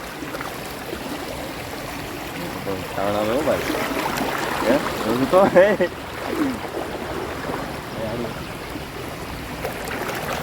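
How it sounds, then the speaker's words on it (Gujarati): Floodwater from heavy rain rushing across a blocked village road, a constant broad wash of flowing water, with someone speaking briefly in the middle over the steady rush. "આ તો બહુ ડેન્જર પાણી આવી ગયું"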